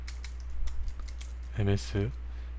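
Keys tapped on a computer keyboard while drafting in civil-engineering CAD software: a few quick, light clicks up close, followed by two short voiced sounds.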